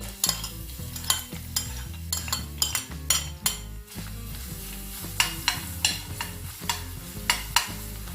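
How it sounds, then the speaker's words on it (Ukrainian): Oil sizzles steadily as garlic fries, under repeated scraping and clinking of a utensil stirring in a pan, with no voices. "На олії смажу чеснок"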